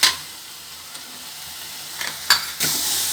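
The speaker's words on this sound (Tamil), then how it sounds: "இதை போட்டு நல்லா கொஞ்சம் கிளறி விடுவோம் ஃப்ரெண்ட்ஸ்." Chickpea masala gravy stirred in a pan makes a soft, steady simmering hiss, broken by a few short scraping strokes near the end.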